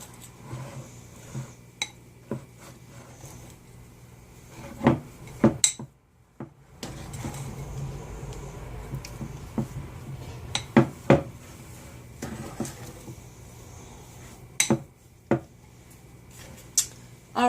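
Ingredients for a keto cookie crust get stirred in a bowl with a utensil, making repeated scraping and sharp clinks against the bowl at an uneven pace, close and moderately loud, with a brief pause partway through.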